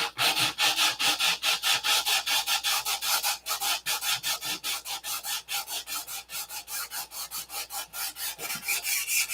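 Wood is hand-sanded to smooth out a raised bump. The rasping strokes come as a steady, rhythmic back-and-forth, close and loud, with about four strokes per second and no talking.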